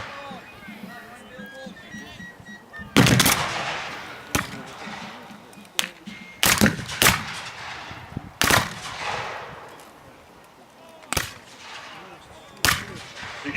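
Civil War battle musket gunfire, scattered sharp loud shots and short volleys with echoing tails over a low background, with someone talking between the shots.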